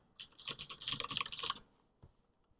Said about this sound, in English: Now I'm going to type in the domain